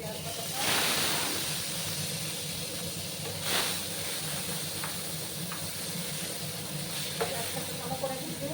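Ground onion paste hitting hot oil while cooking a spicy boal fish curry, giving a steady, broad sizzling hiss with a few sharper crackles while a person talks over it.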